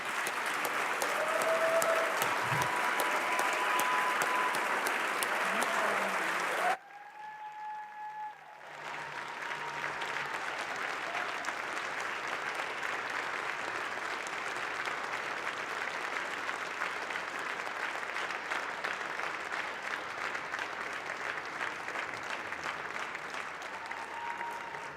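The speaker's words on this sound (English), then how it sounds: "Members, let's give a round of applause for our former colleagues." Legislators in a House chamber applaud former colleagues with sustained, even clapping that fills the room for over twenty seconds, briefly dipping before carrying on steadily.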